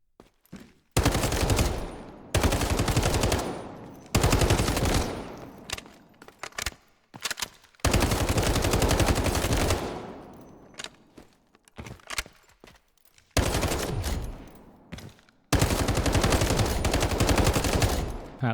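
Bursts of rapid automatic gunfire from a customized gun being test-fired in the video game Delta Force, several sustained volleys of a few seconds each separated by brief pauses and scattered single shots, loud and close.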